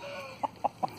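Two roosters calling to each other, three short bright clucking calls in quick even succession, close and fairly faint over a quiet background.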